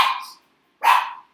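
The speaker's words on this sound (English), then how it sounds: "So, I apologize for my dogs, they're loud." Pet dogs indoors let out two loud, sharp barks close by, separated by a short silence.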